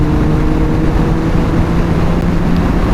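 A motorcycle engine hums steadily while riding, with a low rumble and wind rush as the revs creep up gradually, alone and without talk.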